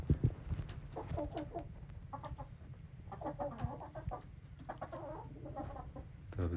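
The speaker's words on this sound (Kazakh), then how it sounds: "Мына сатылып жатқан әтеш осы." Hens and a rooster, including Adler-breed chickens, clucking inside a poultry coop, with soft, repeated bursts of clucks and calls from close by and no talk over them.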